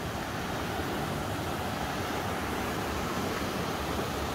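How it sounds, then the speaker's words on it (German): A brook flowing into the Emme river gives a constant, even rushing wash of water, moderately loud and unbroken, with no one speaking. "Da kommt auch noch ein Bach nach vorne."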